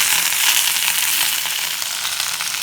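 Diced onion, garlic and square-cut capsicum fry in a hot pan for an upma manchurian snack, giving a loud, continuous close sizzle with small crackles and no talking.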